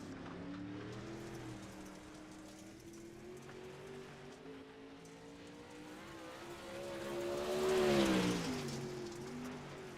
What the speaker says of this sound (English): Your first car to hit the track right now.